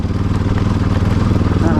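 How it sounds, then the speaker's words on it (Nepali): A motorbike rides across a rocky riverbed, its engine throbbing in a steady, close mid-pitched drone with rapid pulsing, while a voice talks over it. "खोलाको बगरमा बाइक राइड गर्दै।"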